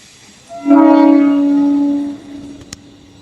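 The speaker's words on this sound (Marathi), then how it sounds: "चला हे बघा ट्रेन आत्ता बघा सुटली ट्रेन" A loud, steady train horn sounds for about a second and a half as the train departs, followed by a faint click and quiet rumble.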